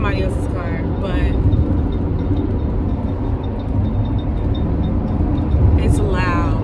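A loud car engine idling in traffic just ahead of a parked or slow car, a steady low rumble that carries on throughout while someone talks over it intermittently.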